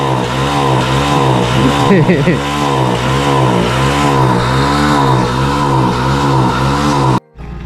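Vehicle engine with water mixed into its petrol revving hard, a loud rough sustained roar with wavering, uneven pitch that drops off abruptly near the end.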